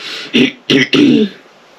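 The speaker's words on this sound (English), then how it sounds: "I have to clear my throat a lot" Someone clears their throat three times in quick succession, close and fairly loud, with soft breathy noise between.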